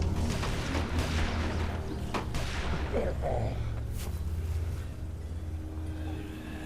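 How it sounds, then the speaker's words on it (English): A sharp gunshot cracks out in a Walking Dead video game, followed by a couple more distant booms and impacts over a low steady rumble. "Gunshot."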